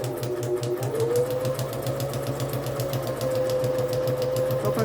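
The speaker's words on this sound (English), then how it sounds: "I'm just going to sew straight down" A sewing machine stitches a straight line down a book page, a steady fast mechanical chatter with even needle ticks running continuously at close range.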